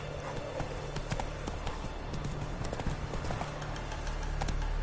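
Hooves of the horse Roach in The Witcher 3 clip-clopping in a quick steady gallop, close and continuous over a low rumbling game backdrop, with a faint neigh.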